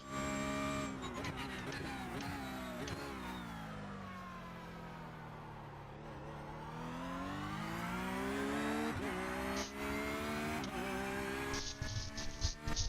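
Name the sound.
race car engine in iRacing video game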